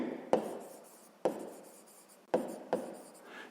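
Pen strokes scratching across paper while numbers are written out for a sixth-grade math exercise, four distinct bursts of writing, close and quiet, with no talking.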